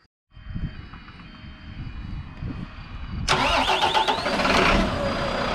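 An engine at a glider airfield cranks with a low, uneven rumble for about three seconds, then catches and settles into a steady, loud running roar, with no one talking.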